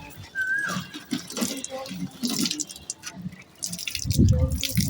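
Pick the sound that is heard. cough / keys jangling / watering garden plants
watering garden plants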